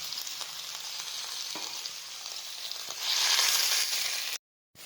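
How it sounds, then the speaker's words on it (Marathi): Grated red pumpkin frying in ghee for halwa makes a steady sizzle with a few faint stirring scrapes. The sizzle swells louder toward the end, then cuts off abruptly. "तुपामध्ये आपण घालूया भोपळ्याचा खीस. परतून घ्यायचा चांगला."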